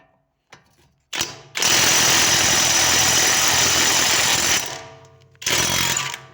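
A Yato YT-828071 impact wrench hammers hard on stubborn rear wheel bolts in a loud, close, continuous rattling burst of about three seconds. Short bursts come before and after it.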